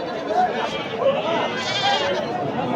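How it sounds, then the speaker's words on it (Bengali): Goats bleating repeatedly amid the steady din of a busy village livestock market in Bangladesh, several nearby and distant calls rising over constant crowd chatter and voices. "অনেক ছাগল আসছে"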